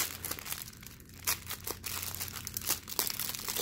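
Tape on a diamond painting kit crinkles and crackles close up, a run of quick irregular rustles and sharp crackling bursts with no speech.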